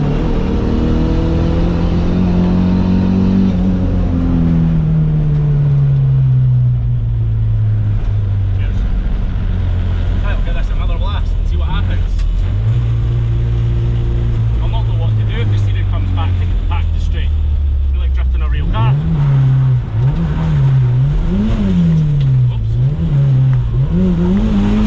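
A Volvo 940 drift car's engine drones and revs while driving, pitch sweeping down through a gear, holding steady, then rising and falling in quick throttle blips near the end, loud and close throughout.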